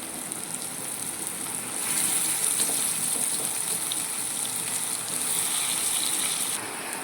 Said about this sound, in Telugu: ఇప్పుడైతే మనం కట్ చేసి పెట్టుకున్న వంకాయ ముక్కలు అయితే వేసుకుందాం